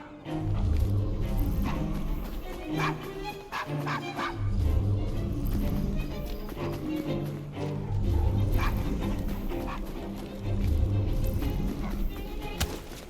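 A dog in the video game Assassin's Creed Syndicate gives repeated bow-wow barks and yips, close by, over a steady game soundtrack and ambience.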